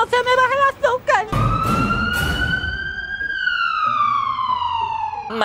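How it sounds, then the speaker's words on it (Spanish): Short chirping voice sounds lead into a loud ambulance siren that sweeps up and then holds a long, steady wailing tone. It is close and prominent, and the voices stop once the siren takes over. "La ambulancia era María, que se puso bien mala."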